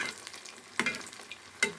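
Potato kebabs fry in oil with a close, crackling sizzle, punctuated by two sharp spatula scrapes against the pan.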